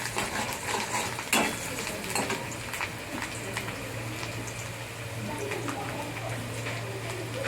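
Salted fish curry with bhola fish in a pan being stirred, a soft bubbling simmer with a low steady hum and occasional light scrapes of the spoon, one sharper knock early, no talk.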